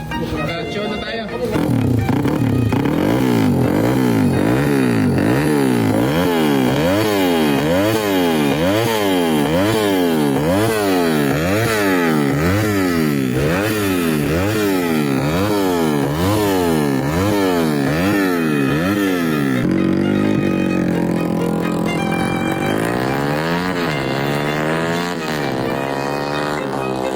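A freshly built PCT motorcycle with ground cams, just started: a loud, close engine revving in a steady, repeated rise and fall, then settling into a different rougher running note near the end.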